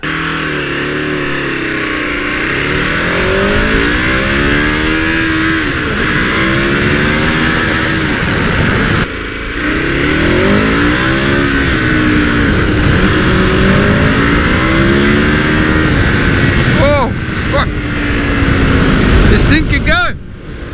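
A KTM 1290 Super Adventure motorcycle accelerates hard, its loud engine rising and falling in pitch through repeated gear changes, with steady wind noise. A rider talks over it throughout.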